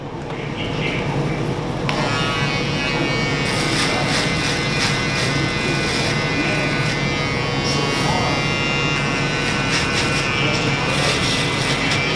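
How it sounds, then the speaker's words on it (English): A Finale electric shaver buzzes loudly and steadily through a skin fade haircut with detachable blades, a continuous close hum with a voice talking over it. "I'm going to be using my finale shaver as soon as I find it."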